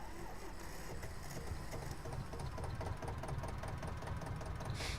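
A Zetor 25 tractor engine idles in Farming Simulator 22 with a rapid, even mechanical chatter, steady and close throughout, no voices over it.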